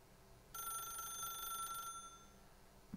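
Telephone ringing in the video game The Stanley Parable: one sustained electronic bell-like ring of about a second and a half, clear and moderately loud, with no talk over it.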